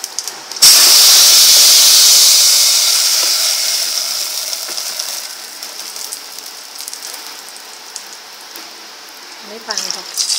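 Pumpkin paste drops into hot oil tempered with cumin for pumpkin soup, bursting into a sudden loud hiss that slowly fades into a softer, crackling simmer, with a little clatter at the end.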